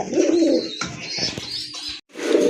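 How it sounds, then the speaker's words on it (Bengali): Several pigeons coo close by in a pigeon keeper's flock, with soft repeated throaty calls and a brief pause near the end before the cooing resumes. "আরেক জোড়া কবুতর চলে আসছে কালারফুল কবুতর"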